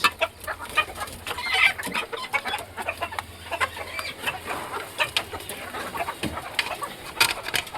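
Chickens cluck and chatter continuously nearby, with a rooster-like call now and then over a busy farmyard background.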